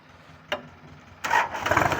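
A used farm tractor's engine gives a short click, then cranks and catches about a second later, settling into a rough, rising rumble up close.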